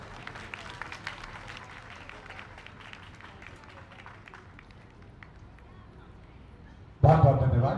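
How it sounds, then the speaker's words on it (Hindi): A crowd at an outdoor political rally in India bursts into sudden loud applause at the end, after several seconds of a faint, busy background with a distant voice. "जोरदार तालियां अंदाज करें।"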